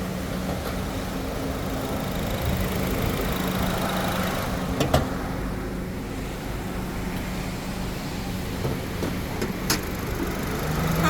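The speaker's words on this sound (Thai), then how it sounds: "สตาร์ทเครื่องไว้แล้วทุกคันเลย" Several Honda Jazz GK five-door hatchbacks idle on a car sales lot, a steady low engine hum with broadband outdoor noise and a few faint clicks, fairly distant and without talk.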